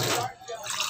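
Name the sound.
water being poured into a cooking pot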